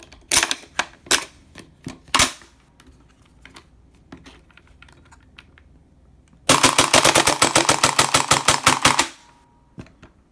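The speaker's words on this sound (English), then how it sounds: "a lot of light strikes and some intermittent firing" A rifle with a partly 3-D-printed build fires intermittently amid light strikes: a few sharp, scattered shots and clicks early, then a rapid, loud burst of closely spaced reports that cuts off abruptly.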